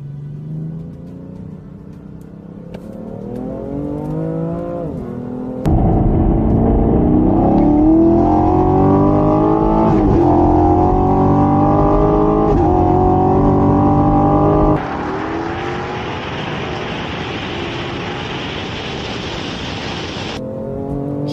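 A BMW F80 M3 Competition with DCT, a Chevrolet Camaro LT1 with a 10-speed automatic and a Dodge Challenger 392 with an 8-speed automatic launch in a drag race, engines roaring and rising through gear changes, loud and close with a sharp shift midway.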